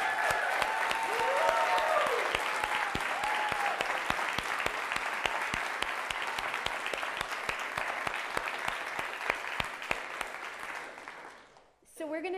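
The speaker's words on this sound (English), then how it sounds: "Can we give our first round of speakers another round of applause?" A conference audience applauds the first round of speakers, steady, dense clapping from a large crowd for about twelve seconds with voices mixed in, then tapering off near the end.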